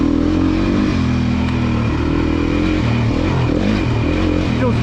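A Beta four-stroke trail motorcycle engine revs loudly and close up, its pitch rising and falling through several throttle blips over a steady idle with some mechanical clatter.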